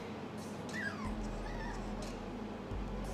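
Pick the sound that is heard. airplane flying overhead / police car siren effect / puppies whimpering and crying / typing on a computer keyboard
puppies whimpering and crying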